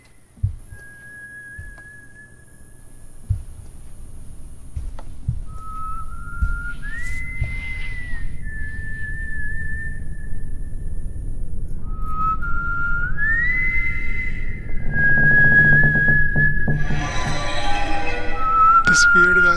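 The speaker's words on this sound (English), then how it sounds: "Oh my God, that creepy whistle again." A creepy, drawn-out melodic whistle in the horror game Remothered: Broken Porcelain, several sustained tones with rising slides, clear and prominent over a low rumbling ambience that thickens toward the end.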